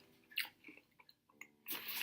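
Someone bites into and chews a crunchy white chocolate cheesecake cookie up close, giving quiet crunches and soft mouth sounds with a louder crunch at the end.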